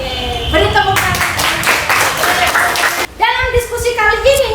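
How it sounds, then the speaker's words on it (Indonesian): A class applauds during a school lesson, with bursts of clapping running under and between loud, lively voices and cheers, a short lull, then more clapping with people talking over it. "Oke, beri tepuk tangan."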